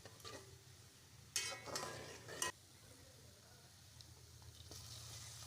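Onions hit hot oil with a sudden loud burst of sizzling that fades after about a second, then quiet, steady frying with soft stirring and a few faint clinks; a distant voice is barely present.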